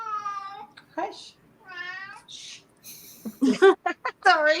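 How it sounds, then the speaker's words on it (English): A cat meows repeatedly indoors, several drawn-out, wavering cries spaced apart and then quicker, sharper ones near the end, fairly close and clear against a quiet room. "Your cat wants to get in the conversation."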